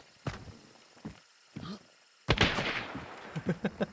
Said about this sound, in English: He's just shooting.